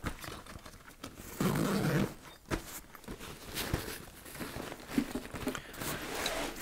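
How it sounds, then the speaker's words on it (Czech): A two-way zipper on the main compartment of an MFH Mission 30 military backpack gives a short, close zipping rasp that lasts under a second, followed by quieter handling rustles. "Přístup do hlavní komory batohu je řešen pomocí dvoucestného zipu."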